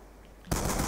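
Gunfire in Black Ops 2 breaks a near-silence halfway through, a sudden loud, rapid burst of shots that continues to the end.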